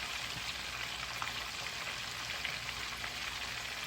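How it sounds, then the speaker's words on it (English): Chicken pieces brown in hot oil for a Jamaican-style brown stew, giving a steady, faint sizzle and crackle with no talk. "So I've been browning the meat in oil, and I'm just gonna go through until I brown all the meat."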